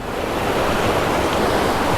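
A multi-tiered waterfall at a riverside campsite near Kaeng Khoi, Saraburi, gives a loud, continuous rushing roar of water, steady and unbroken throughout, with no voices.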